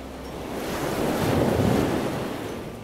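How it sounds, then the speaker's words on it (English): Ocean surf roars in one long swelling rush that builds to a peak and then eases off, with wind noise mixed in and no voices. "I hear the roar of the ocean"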